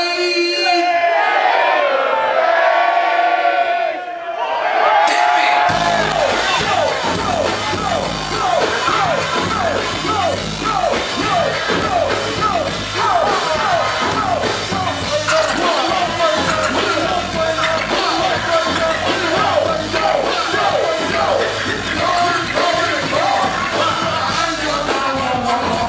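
A festival crowd at a live show at NASS Festival 2015 screams and yells loudly and continuously for over twenty seconds, after a brief amplified voice with music at the start.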